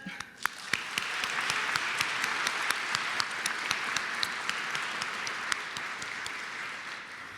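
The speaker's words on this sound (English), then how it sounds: "Please join me in a round of applause and expressing our heartfelt thank you." Audience applause at an African American Credit Union Hall of Fame induction ceremony, a sustained, even wash of many clapping hands with a few sharper individual claps standing out, moderately loud and steady before tapering slightly.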